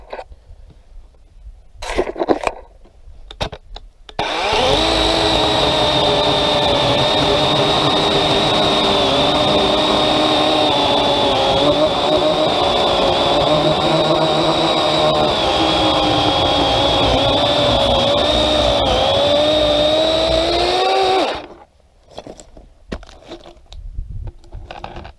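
A DeWalt 20V cordless chainsaw with a 12-inch bar cuts through wood in one continuous, loud, steady whine of about seventeen seconds, its pitch sagging slightly under load, with quieter clicks and handling before and after.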